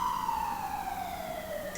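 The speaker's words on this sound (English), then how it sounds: "Pardon the ambulance real quick." Ambulance siren passing nearby, a loud steady wail that slowly drops in pitch as it goes by, heard alone.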